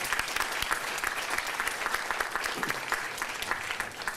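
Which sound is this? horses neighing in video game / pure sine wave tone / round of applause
round of applause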